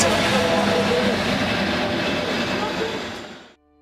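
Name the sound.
passenger train approaching a station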